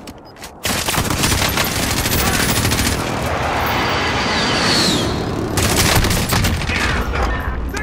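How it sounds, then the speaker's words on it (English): A precision airstrike in Call of Duty: Modern Warfare lands as a loud, dense barrage of rapid gunfire and explosions that roars continuously for several seconds after a brief quieter start. "Enemy precision airstrike."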